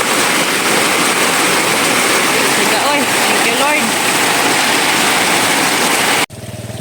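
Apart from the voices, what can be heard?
heavy rain pouring water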